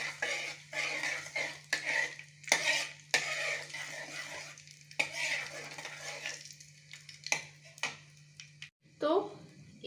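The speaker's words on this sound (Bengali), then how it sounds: "এটা একটু ভাজা ভাজা করব সামান্য 2 মিনিট।" Nigella seeds, asafoetida and dried chillies frying in oil in a pan while being stirred, with repeated scraping and clinking of a utensil over a soft sizzle, interrupted by speech throughout.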